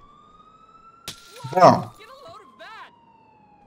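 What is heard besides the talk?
police car siren in video game Grand Theft Auto IV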